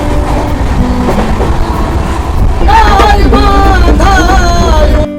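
Trains crossing at Deulti station in India, a loud close rumble of rolling wagons with clattering wheels and metallic squeals, continuous until it cuts off near the end.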